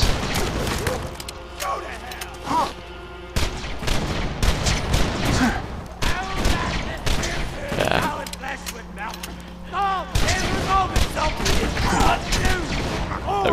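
Dense, rapid gunfire with exploding bullets erupts in the Borderlands 2 video game, bursts of shots and bangs crowding together with mechanical clatter, loud and near, with short gaps between volleys.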